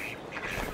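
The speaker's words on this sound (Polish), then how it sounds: "Kaczuszki nam tutaj kwaczą bez przerwy." Ducks quacking in Farming Simulator 22 at a campsite by a small chapel in the Carinthia map, faint calls over soft ambient background.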